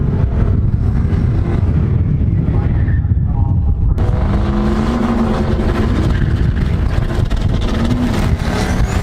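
A 1967 Mustang drag car launches down the strip, its engine roaring loud and steady under heavy wind buffeting, with the tone shifting as it pulls away.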